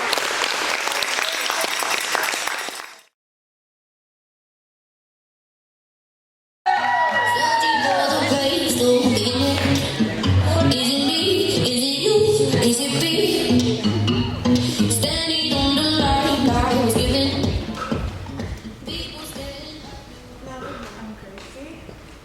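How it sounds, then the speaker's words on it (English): An audience at a student passion project presentation breaks into loud applause with scattered cheers and shouts, starting after a brief silence and running steadily to the end, with some voices mixed in. "Let's do a big round of applause"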